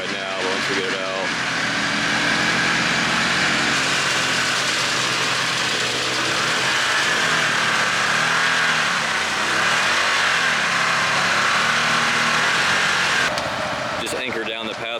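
A utility vehicle engine revving and straining steadily while pulling a stuck Can-Am Defender out, loud and close for a long stretch, with someone talking over it.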